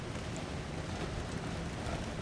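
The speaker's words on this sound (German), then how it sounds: "Oh, der Wind geht so. Das ist nicht so ganz günstig." Wind blowing in the snowy survival game The Long Dark, a steady, fairly loud rushing roar that holds evenly throughout with no gusting breaks and no voices over it.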